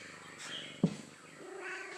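A pet cat purring softly and continuously at close range, with a brief thump partway through and faint vocal sounds over the low rumble.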